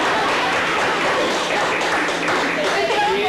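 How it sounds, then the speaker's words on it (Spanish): An audience inside the Santa Mónica women's prison bursts into applause, the loud, continuous clapping mixed with voices and some laughter throughout. "Un aplauso para ella"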